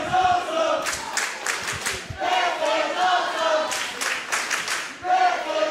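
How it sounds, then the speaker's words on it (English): A wrestling crowd at a HOSS 2023 match roars and chants loudly and steadily, with the noise rising and swelling in waves throughout. "And you hear the crowd"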